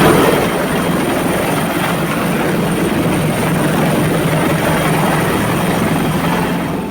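A helicopter evacuating residents from Mount Uwe in Duga, Papua, drones loudly and steadily with a dense rotor and engine roar, close and unbroken throughout with no voices.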